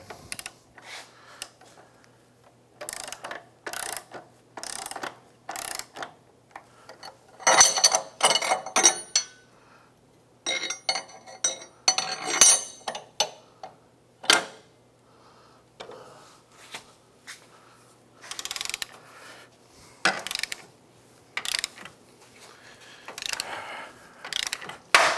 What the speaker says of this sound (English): let's go get some big wrenches and see if we can break that guy loose